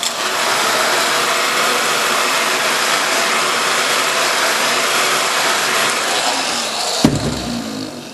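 A heat gun warms a front plate graphics decal on a 2013 Honda CRF450 dirt bike, giving a steady, loud blowing hiss close up that runs almost eight seconds before a click and a slight drop.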